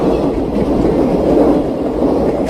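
Trains passing through a rail yard in a film scene, a loud, continuous rumble and clatter of rolling wagons that stays steady and close throughout.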